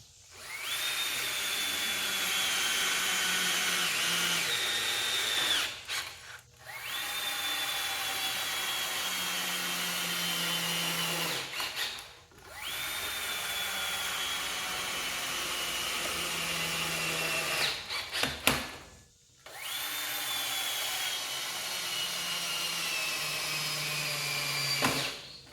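A power drill mounts a hydraulic press onto an oak stand in four long sustained runs of about five seconds each, a close whining motor that sags under load, with short clunks and pauses between bursts.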